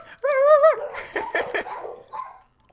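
Dogs in a Minecraft Hunger Games match yelp and bark, a warbling whine followed by several short bright yips in quick succession, loud and close with no one talking over them.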